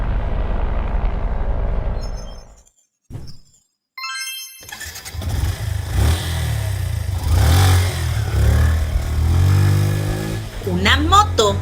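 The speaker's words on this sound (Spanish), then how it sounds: "Una moto." Motorcycle engine heard after a short gap, starting and revving up with rising and falling pitch sweeps, loud and close, following other earlier sounds and with a few brief tones.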